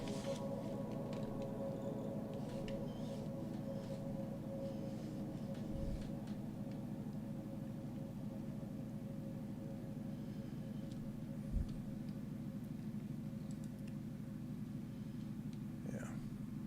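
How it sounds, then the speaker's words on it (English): An electric fan runs in a hot room during an early-morning stream, a steady broadband whir and low hum holding constant throughout, with faint low thumps and a quiet voice now and then. "I know I got my fan on because it's really hot here"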